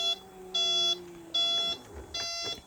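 An electric mobility scooter in reverse gear sounds a warning beep, with four evenly spaced electronic tone bursts repeating at a steady rhythm, clear and close over faint background noise.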